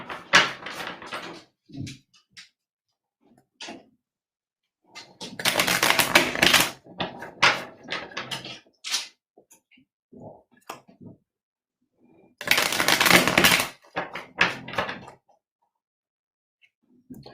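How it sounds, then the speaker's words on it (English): Bursts of rapid tarot card shuffling, a riffling flutter repeated a few times, with soft taps, shuffles and handling noises in between, close by. "I'm gonna say this as I'm shuffling the cards"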